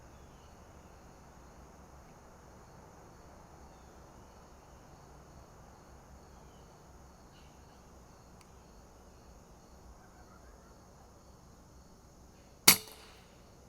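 A single sharp shot from an FX Dreamlite Compact air rifle, fired at a squirrel outdoors, cracks out once near the end over a steady bed of insect and cricket chirping.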